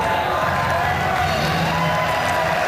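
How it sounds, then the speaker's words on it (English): A wrestling crowd at an FWA show in the United Kingdom cheers and chants in a dense, steady roar across the whole moment. "As the crowd now rising to their feet, the FWA chant going strong"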